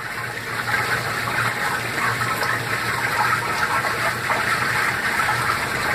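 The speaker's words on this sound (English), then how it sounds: "Let me close the tap, that's enough water." Water gushes steadily from a tap into a washing machine, a continuous loud rushing pour with a low hum underneath and no talking.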